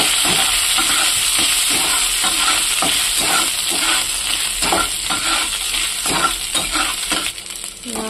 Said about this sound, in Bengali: নারকেল কুচানোগুলোকে হালকা ভাজবো।